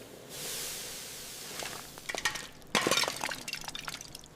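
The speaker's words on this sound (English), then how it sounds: "A sudden cooling shatters the plaster mold from the inside." A plaster mold around a gold casting for a mini trophy cracks and breaks apart under sudden cooling, giving a hissing spray followed by crackling, clinking bursts of breakage, moderately faint and without voices.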